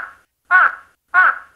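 A pet bird mimicking another bird's call: three loud, harsh squawking calls, the first trailing off and the next two evenly spaced about two-thirds of a second apart, close and clear with silence between.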